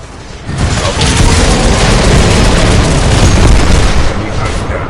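An enemy Titan blows up in Titanfall 2 combat: a loud, sustained, rumbling explosion with crackling debris that holds for several seconds before easing off slightly.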